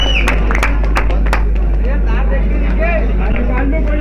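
A few sharp claps ring out under a crowd of voices and a steady low hum at a prize distribution for a pigeon-flying tournament, with people talking throughout.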